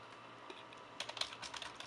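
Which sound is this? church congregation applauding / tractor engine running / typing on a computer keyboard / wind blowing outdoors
typing on a computer keyboard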